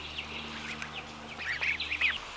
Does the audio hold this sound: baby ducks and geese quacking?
yes